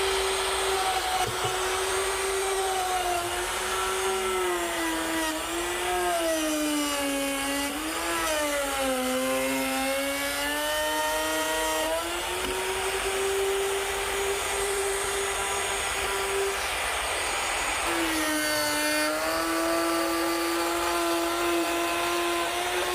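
A router with a 1/2-inch spiral bit cuts through 3/4-inch wood in a continuous high motor whine that bends in pitch as it loads under the cut, steady and close with no talking.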